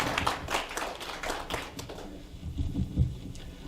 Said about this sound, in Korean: 다시 한번 박수로 환영해 주실 것을 부탁드리겠습니다